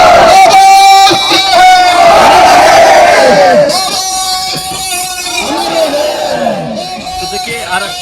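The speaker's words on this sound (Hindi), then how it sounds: "बहुत भीड़ है।" A large crowd roars and chants at a reservation protest in Delhi, loud and dense from start to finish, with shouted voices rising over steady crowd noise before easing slightly.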